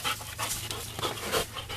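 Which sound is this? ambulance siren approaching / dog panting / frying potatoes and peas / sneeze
dog panting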